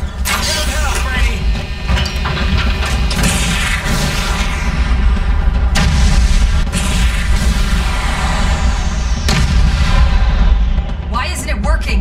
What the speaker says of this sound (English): Launcher's ready to fire.